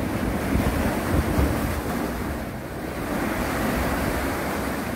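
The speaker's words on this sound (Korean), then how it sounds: "자, 파도가 한번 부딪히는 모습을 보겠습니다." Waves crash and wash against a harbor wall at Hujin port in Yangyang, a steady broadband roar with surging swells, mixed with gusting wind buffeting the microphone.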